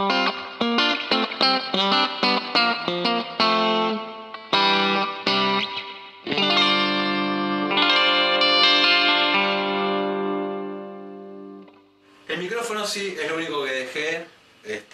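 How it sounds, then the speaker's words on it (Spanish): A 1996 Korean-made Squier Stratocaster 50th anniversary electric guitar runs through a compressor and reverb pedal, playing quick plucked notes and then long ringing chords that swell and fade with a reverb tail. A voice speaks briefly near the end. "El primero sería con un compresor y la reverb del pedal celeste"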